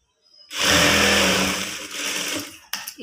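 Domestic sewing machine running a double line of stitching while attaching piping and a sleeve, a steady whirring motor burst for about two seconds that tapers off, followed by a brief clack at the end, with no voices.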